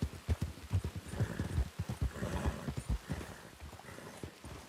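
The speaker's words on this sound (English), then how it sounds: "Come on, stop your horse." Horse hooves clip-clop steadily in the Red Dead-based WildRP game, a close, rhythmic run of thuds that slows toward the end, with no talk over it.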